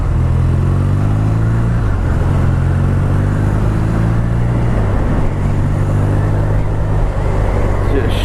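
A 2018 BMW R nineT Vintage motorcycle engine drones and revs steadily on a test ride, pitch stepping up and down through gear changes, loud and constant with a rider talking over it.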